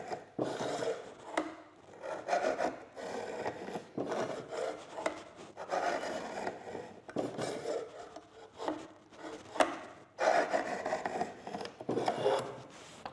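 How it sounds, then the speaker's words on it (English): Shear blades are drawn repeatedly through an MS1401 carbide shear sharpener, giving a series of close, gritty rasping strokes in an uneven rhythm with short pauses between passes. "the carbide is putting on a sharp edge, regrinding to the correct angle on both edges"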